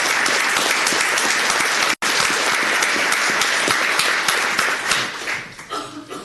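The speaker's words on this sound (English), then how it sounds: "I think we owe him a big round of applause" A county commissioners court audience gives a full round of applause, steady and dense, broken by one abrupt dropout near the two-second mark, then thinning and tapering away at the end.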